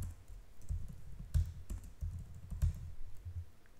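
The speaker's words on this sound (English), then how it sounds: "Let's type in another email." Someone types an email into a sign-up form on a computer keyboard, a steady run of soft key clicks and thumps with a few heavier taps, close and alone.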